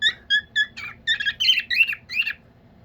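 A one-year-old pet bird whistles a series of clear, repeated chirpy notes, rising into a busier warbling phrase, close and loud with no talking.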